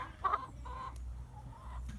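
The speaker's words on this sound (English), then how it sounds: "We have chickens. Chickens. They're so loud and attract flies." Chickens cluck nearby in a few short, throaty bursts, the first loudest, over a low background rumble with no talking.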